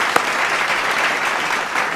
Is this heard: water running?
no